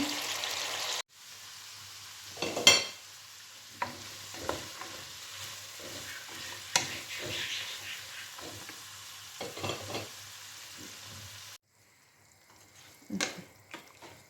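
Chicken pieces fry in a pan, giving a steady close sizzle broken by scraping stirs and sharp utensil clicks, with two brief cut-outs to silence along the way.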